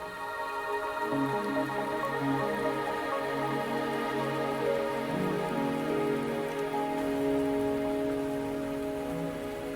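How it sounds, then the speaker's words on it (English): Steady rain falls on surfaces in a fantasy video game, a dense continuous patter with drips, holding an even loudness for the full stretch behind layered background music. "Are you trapped here by the rain?"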